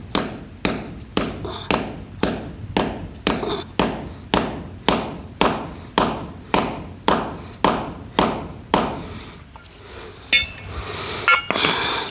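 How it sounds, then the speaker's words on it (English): A hammer pounds a piece of wood into pre-drilled holes while framing a rollup door on a horse barn, about eighteen sharp, evenly spaced blows landing close and loud, then a few softer knocks and handling noises. "So let's see if we can pound this in."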